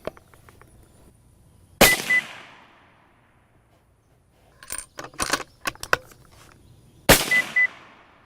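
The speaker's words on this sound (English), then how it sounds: "All right, here's one more shot." A rifle fired while zeroing a ZEISS Conquest V4 scope outdoors, two loud sharp reports several seconds apart with decaying tails, plus a burst of clicks and rattles between them.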